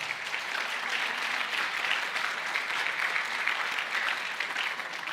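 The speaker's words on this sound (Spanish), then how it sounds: "denle ese aplauso al Señor" A church congregation gives a sustained round of applause during a Sunday service, dense crowd clapping at an even, moderate level throughout with no break.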